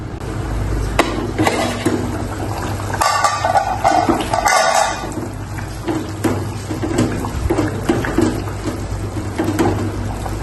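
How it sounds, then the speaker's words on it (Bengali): Hot water pours into a cooking pot of snake gourd curry, a loud splashing gush of a couple of seconds amid ongoing stirring and clattering pot sounds, with no voices. "এবার দিয়ে দিচ্ছি গরম পানি।"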